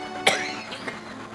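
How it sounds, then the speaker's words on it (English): A single sharp cough close by, followed by a couple of softer throat sounds, then quiet. "Every time I cough, I bop another vertebrae and I call that a win."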